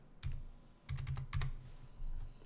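Computer keyboard keys tapped out in a short sequence of quick clicks, in two or three small clusters with pauses between, close and fairly quiet with no talk.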